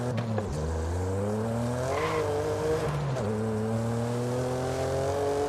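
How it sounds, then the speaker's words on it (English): A racing car's throaty, deep exhaust in Forza Horizon 5 drones through rising and dropping revs with gear changes, steady and close, no talking over it. "I like the exhaust, man. It's actually kind of throaty and deep"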